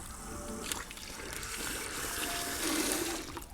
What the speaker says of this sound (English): when the valve is fully opened, I will flush the drilling chamber.